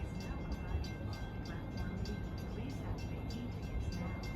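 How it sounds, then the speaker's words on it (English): A commuter train from Grand Central to Ronkonkoma pulls into Bethpage station, a steady low rumble with a rhythmic clatter of wheels over rail joints, with talk faintly alongside. "here comes train 2064 from Grand Central to Ronkonkoma"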